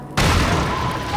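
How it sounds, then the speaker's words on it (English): Heavy explosion in the VR game Half-Life 2: after a short quiet lead-in, a sudden loud boom with a rumbling low-end tail lasting about a second. "such a harsh explosion"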